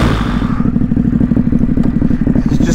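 A Ducati HyperMotard 950 SP motorcycle rides off-road through deep water, its engine a loud, steady low rumble with clattering, churning splashes pulsing along its whole length.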